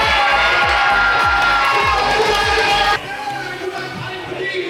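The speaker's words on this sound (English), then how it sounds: "He was getting the crowd super hyped up" A convention crowd cheers and shouts loudly and steadily at a stage appearance, with whoops and excited voices, then drops to a softer crowd murmur partway through.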